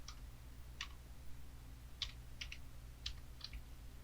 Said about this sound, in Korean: 프로그램 모니터 클릭하고 필요한 내용을 타이핑을 해줍니다.